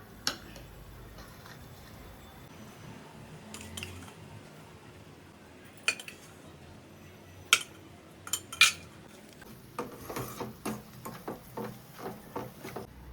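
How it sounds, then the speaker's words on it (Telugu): A spoon mixes ground masala spices in a pan for mutton pachadi: soft scraping that gives way to scattered sharp metallic taps, then a quicker run of close clinks near the end. "మంచిగా కలుపుకోవాలి మసాలా అంతా"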